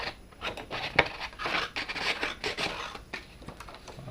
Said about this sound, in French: Donc on découpe une bande de 5 cm environ.